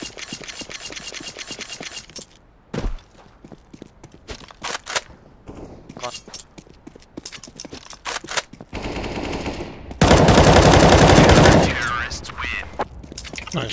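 Counter-Strike gunfire on the Mirage map, with rapid automatic bursts and single shots, a long loud burst near the end, mixed with footsteps and game noise while players talk over it.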